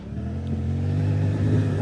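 A Suzuki V-Strom 800DE motorcycle engine hums steadily while riding on gravel, a low droning tone rising slightly as the throttle opens, close and continuous with some road and wind rustle.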